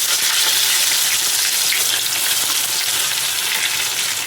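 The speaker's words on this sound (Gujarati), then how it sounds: "હવે જો આ ટીકી તળી લઈએ।" Tikki patties frying in hot oil, a steady, dense sizzle that holds evenly loud and close for the whole stretch, with no talking over it.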